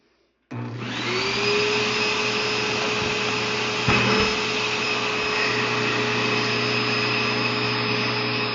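A buffing wheel spins up after a moment of quiet and keeps up a loud, steady whir as a finished tobacco pipe with a stained bowl is buffed, with a brief change in tone partway through.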